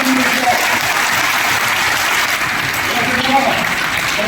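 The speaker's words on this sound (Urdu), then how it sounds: "ان کے لیے تالیاں بجائیں" Crowd at a Pakistani political gathering applauds loudly in a steady, dense burst of clapping, with some voices mixed in.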